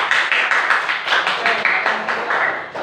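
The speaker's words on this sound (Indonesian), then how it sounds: "Beri tepuk tangan." A classroom of students applauding together during a microteaching lesson: a steady run of dense, even hand claps lasting a few seconds at moderate loudness, with no talk over it.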